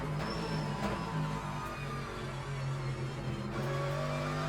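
A race car engine in the racing game Le Mans Ultimate hums and whines steadily through gear changes with rising tonal pitch, clean and continuous, driven on cold tyres.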